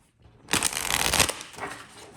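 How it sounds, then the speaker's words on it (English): A deck of playing cards shuffled once by hand, a crisp riffling burst lasting about a second that tails off, close up and alone. "I'm so annoyed that these cards shuffle better on this side."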